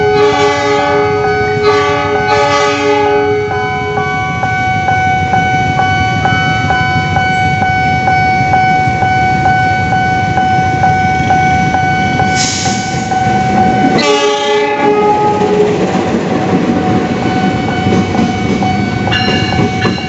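The Pangrango passenger train between Bogor and Sukabumi, Indonesia, rumbles steadily with continuous mechanical noise and long tonal horn blasts sounding near and loud throughout.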